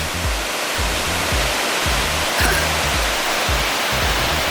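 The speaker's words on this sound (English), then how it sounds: "That's our placid little Evolution Creek." Rushing mountain creek water, Evolution Creek along the John Muir Trail, roars as a steady close broadband wash with no break and no voices over it.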